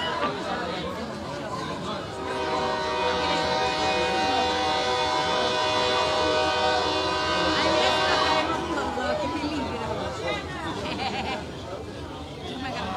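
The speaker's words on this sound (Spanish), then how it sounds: "ahí se está escuchando los bocinazos, la llegada del tren" A train arriving at a crowded station with long sustained horn blasts sounding over the noise of a chattering crowd, loud and continuous, with people talking throughout.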